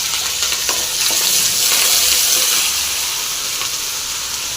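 Curry leaves and green chillies fry in hot oil with garlic for a white radish chutney, producing a loud, dense, continuous sizzle with occasional sharper spatters and stirring, close and without speech.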